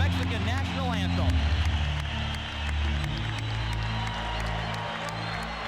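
A boxing arena crowd roars steadily just after the Mexican national anthem ends, a dense wash of cheering and clapping, with loud voices and some music mixed in beneath.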